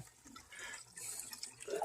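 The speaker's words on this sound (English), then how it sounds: "And I'll rinse. Do a rinse there." Water poured over plants as a rinse, a brief soft splashing and trickling pour, fairly close.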